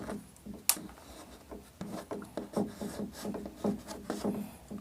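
Pen scratching across paper while a Class 10 math solution is written out, close and irregular strokes with one sharp tap near the start and no talking.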